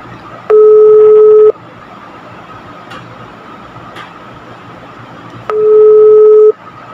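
A phone call rings out, two steady one-second ringback tones about four seconds apart, clear and close over faint background noise.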